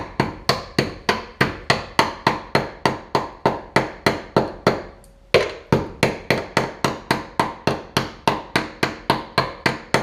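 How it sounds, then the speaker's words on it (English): Body hammer repeatedly beating the rusty door skin of a 1966 Ford Galaxie 500 convertible: loud, close, evenly paced metallic blows about four per second, with a brief pause midway before the steady hammering resumes. "you just saw me beating the heck out of it with the body hammer"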